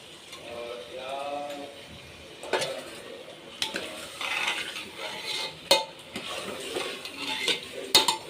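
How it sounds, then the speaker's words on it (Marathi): Raw chicken tipped into a pressure cooker of cooking spinach, giving a close run of clattering metal scrapes and knocks with a spoon stirring, loudest in sharp clinks toward the end, with no talking. "आता मी चिकन टाकते ह्याच्यामध्ये, कुकरमध्ये."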